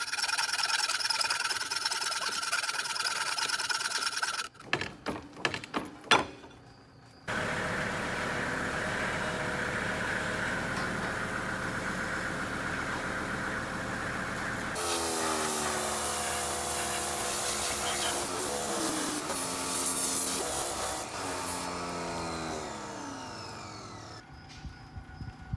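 A steering push rod on a 60-year-old tractor being converted to electric is cut with a power tool, a loud, sustained grinding whine that shifts pitch as the blade bites, broken by brief clattering pauses.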